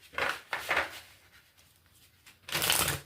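Playing cards are shuffled in quick papery riffles, two bursts early and another near the end, close and fairly quiet.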